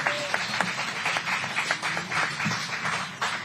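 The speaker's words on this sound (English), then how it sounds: "Please, a big round of applause for these amazing warriors up here." An audience claps and cheers at a Monster Energy Supercross press conference in Glendale, a sustained burst of applause with scattered individual claps standing out.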